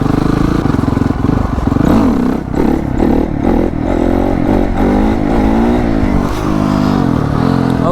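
Honda CRF 450 dirt bike engine revving hard during wheelie practice, a loud, close, continuous blare with repeated throttle swells and drops and some clattering.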